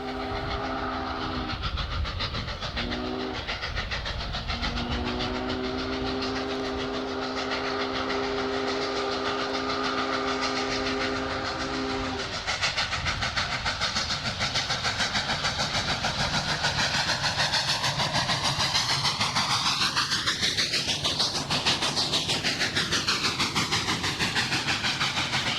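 Union Pacific 844, a giant 4-8-4 steam locomotive with 80-inch drivers, hauls a heavy 5,290-ton drag train up Archer Hill east of Cheyenne. A loud, chime-like steam whistle sounds in repeated blasts over the continuous roar and clatter of the train, with pitch-shifting whistle tones near the end.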